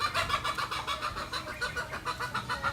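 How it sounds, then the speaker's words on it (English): Hens clucking in a backyard in Tarlac province, Philippines, a dense, rapid run of repeated clucks and squawks from several birds, fairly near and continuous with no talking over them. "it's the chickens that are so annoying, not the roosters."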